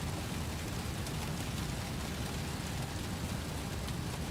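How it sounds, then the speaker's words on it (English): Steady rain pours on the aircraft during a windy landing at St. Maarten in an X-Plane 12 Amerijet 757F, a dense even hiss filling every moment without breaks. "I don't know why it now started raining"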